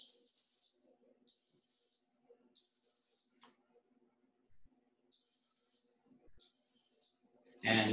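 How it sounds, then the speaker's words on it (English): A fire alarm sounds during a security system test, giving repeated high-pitched whistling tones in bursts of about one second with short gaps, close and clear, then a loud thump at the end. "Okay, so now a fire alarm will go off."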